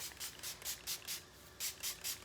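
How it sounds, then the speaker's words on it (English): A spray bottle mists a water and oil mix onto hair in about nine quick, soft hissing pumps, close and faint, in an uneven rhythm with a short pause midway. "So I'm just gonna spray my hair with my water and oil concoction here."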